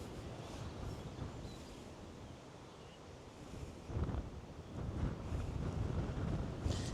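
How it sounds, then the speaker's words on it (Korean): Strong gusting wind roars across a Jeju golf course in foggy drizzle, buffeting the microphone in a loud, steady rush that swells further in the later seconds, with no voices heard. "근데 바람이 어마어마하네요"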